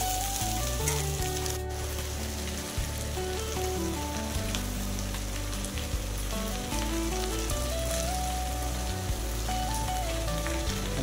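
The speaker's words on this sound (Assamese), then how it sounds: "আদা নহৰু দি অলপ সময় এইটো ফ্ৰাই কৰি এনেকৈ" Tomatoes, potatoes, ginger, garlic and chili frying in a pan, giving a dense, continuous sizzle that holds steady throughout, with a tonal hum running underneath.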